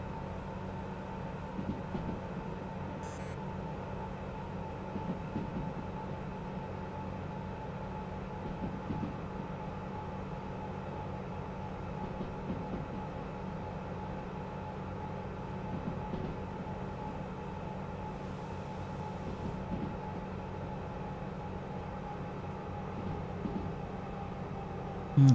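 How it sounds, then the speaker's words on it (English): Locomotive braking in the Derail Valley train simulator, a steady low rumble of rolling rail cars with faint rhythmic track clicks and a constant hum, alone and continuous. "Now a little bit of train brake."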